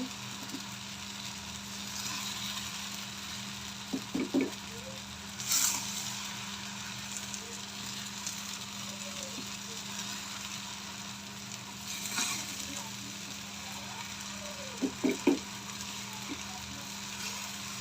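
Soft, steady sizzling of rice and lentils frying in a pan with bay leaves for khichuri, with occasional spatula scrapes and taps over a low constant hum.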